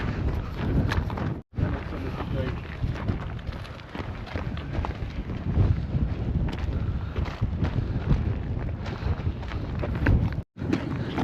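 Cold wind blusters steadily across the microphone near a glacier on Canada's Icefields Parkway, a heavy low rumble that barely lets up, with a few scattered rustles near the start.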